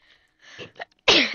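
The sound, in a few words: sneeze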